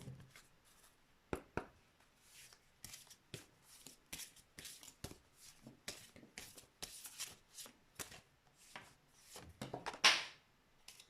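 Tarot cards being shuffled by hand for a three-card spread, a close run of soft riffling and slapping bursts with a louder flurry near the end, no voice.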